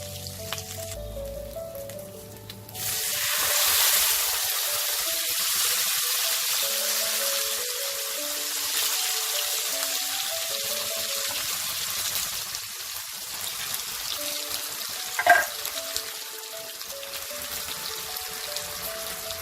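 A paste of ginger, green chili and tomato hits tempered oil for a pointed gourd and prawn curry and bursts into a sudden loud sizzle. The frying then settles into a steady hiss, with one sharp clink near the end.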